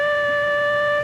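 A harmonica holds a single steady, clear note for about a second, loud and close, with no voices, as the note glides smoothly while the harp is swiveled on the lower lip.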